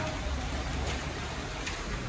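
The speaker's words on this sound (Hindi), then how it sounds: "अब देखो आप बारिश होने लग गई और साथ में ओले भी गिर रहे हैं" Rain mixed with hail pours down outdoors near farm fields, making a dense, continuous roar of patter that stays even throughout, with no talking.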